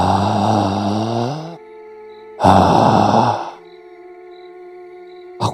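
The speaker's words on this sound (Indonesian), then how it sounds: "aku malah mendengar ada suara napas yang berat" Heavy, drawn-out breaths sigh and groan in two long bursts, with quiet droning hum between them and a short sharp breath at the end.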